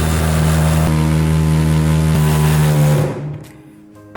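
A power driver running medium-length screws through metal washers to secure a toilet flange, a loud steady motor whine that cuts off after about three seconds, followed by quieter handling clicks.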